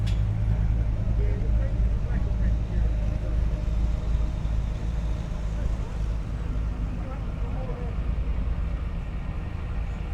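A Mercedes-Benz Unimog truck rumbles by at a classic car show in Sydney, a low steady engine drone with surrounding outdoor crowd noise throughout.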